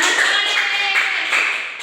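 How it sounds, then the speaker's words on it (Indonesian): Classroom clapping from children in an Islamic school lesson, a short dense burst of many hands close by, tapering off toward the end. "tepuk tangan untuk kita semua"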